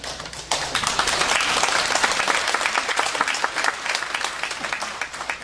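Lively audience applause at a theology forum lecture, dense crisp clapping from many people that swells quickly, holds strong, then thins toward the end.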